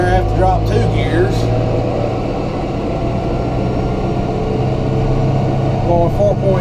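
A lawn tractor engine drones steadily while mowing up a steep hill, a loud, continuous low hum with faint speech-like traces over it.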